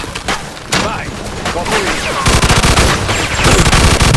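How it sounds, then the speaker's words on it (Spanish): Machine gun fire in the video game Mafia II, dense rapid bursts close and loud, building to sustained automatic fire amid shouting voices. "¡Vamos, usa la ametralladora!"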